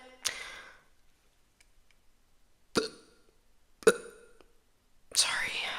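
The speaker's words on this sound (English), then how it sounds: "this is like the 3rd time I've burped while trying to make a video" A woman burps at a desk in a quiet room: a few short, sharp throat clicks spaced apart, then a longer throaty belch at the end, close and fairly soft, with no speech.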